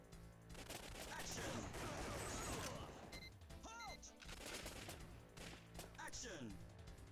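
Gunfire in the arcade shooter Time Crisis comes in dense overlapping bursts and rapid volleys, steady and loud throughout, with game effects and a brief voice mixed in.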